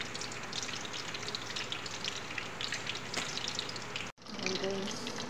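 Fish frying in a pan, a steady soft sizzle and crackle at close range that runs continuously with a brief dropout near the end.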